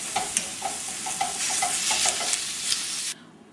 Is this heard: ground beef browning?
yes